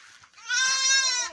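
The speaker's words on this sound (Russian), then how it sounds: "Вот овечка." A young lamb bleats close by, one long wavering, nasal cry following a brief softer call, loud and alone with no talking.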